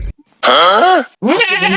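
A goat bleats loudly twice, a long wavering bleat followed by a second one, close up with a brief pause between them.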